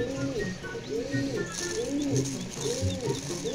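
Pigeons coo in a steady, repeating rhythm at close range while being given feed, their low throaty calls rising and falling in rounded phrases over a faint background hiss.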